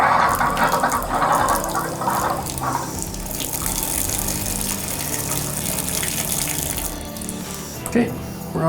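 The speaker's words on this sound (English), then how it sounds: "Water's automatically going to the tub." Water runs from a newly installed shower fixture into a bathtub in a remodeled bathroom, a loud, steady splashing gush that continues close by throughout.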